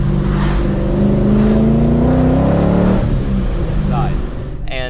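A BMW E39 M5 drives on the road with a loud, close engine drone that climbs in pitch, holds, then eases off as the car settles into a steady pace.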